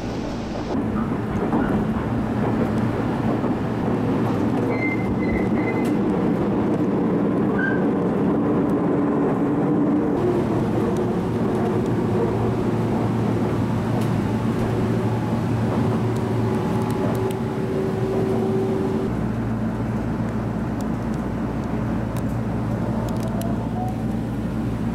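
Steady rumble of an Iida Line local train running between Toyohashi and Okaya, heard from inside the carriage as continuous low engine and wheel noise with faint squeals, no talk.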